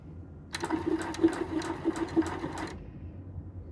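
A freshly oiled sewing machine runs steadily for about two seconds, a close, even mechanical whir with rapid needle clatter, then stops, leaving quiet room tone.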